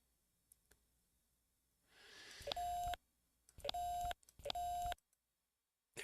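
A phone in The X-Files Game dials with a soft rustle, then three distinct electronic beep tones, each held for about half a second with brief pauses between, clean and loud against near silence.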